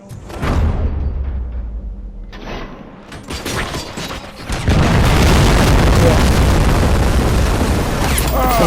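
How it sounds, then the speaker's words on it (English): Bombs detonate in the Robocop: Rogue City video game, a sharp blast near the start followed by a second burst, then a sustained, loud roaring rumble of explosion and debris filling the remaining seconds. "Bomb exploded."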